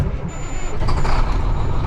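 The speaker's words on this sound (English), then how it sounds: "Start your truck." A truck engine turns over and starts, its low rumble building steadily and loud up close, with a faint high whine above it.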